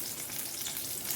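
Onion and curry leaves frying in hot oil in a kadai give a steady, close, dense sizzle with fine crackle, unbroken for the whole moment and with no voices.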